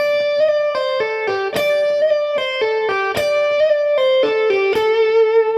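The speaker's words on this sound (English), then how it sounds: "If I add those slides in, it sounds like this." An electric guitar plays a blues lick with quick grace-note slides into the notes, a clear, close run of picked tones with short gliding pitch bends and a slightly driven tone.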